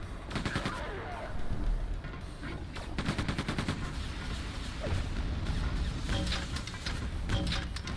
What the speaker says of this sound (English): Sounded like a gun